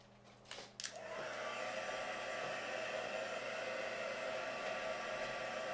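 Hair dryer blowing on wet paint, switching on after a few faint clicks and then running as a steady, fairly loud whooshing hum without pause.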